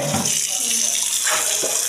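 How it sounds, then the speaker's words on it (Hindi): A newly fitted household water tap runs foamy water in a loud, steady rushing hiss, close up and continuous for the whole moment. "नया वाला नल का लग गया हमारे घर में देखो झाग वाला पानी आता है"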